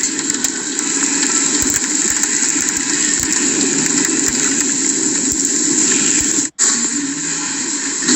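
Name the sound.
truck driving through mud puddle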